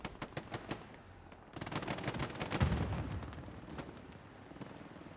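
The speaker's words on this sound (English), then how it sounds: "the medium tank does see him and delivers a hit to the turret" In the World War II shooter Hell Let Loose, a medium tank's shell hits the turret of a Puma recon tank: sharp distant cracks, then a heavy rumbling impact that swells and fades, followed by scattered gunfire.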